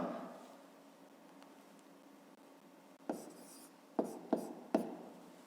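Pen or chalk strokes jotting down a square's side lengths for a fifth-grade geometry exercise, a soft scratchy texture early on, then several short sharp taps and strokes in quick succession near the end, fairly quiet with no talk.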